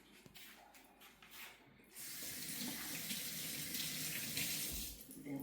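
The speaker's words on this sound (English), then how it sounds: "Now let me rinse my hands." Kitchen tap water runs steadily as hands are rinsed during salsa verde prep, starting after a quieter opening and continuing as a close, even splash to the end.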